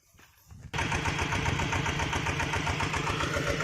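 A tractor engine drives a pump drawing water from a pond beside rice fields, kicking in abruptly after a quiet start and then chugging steadily and loudly.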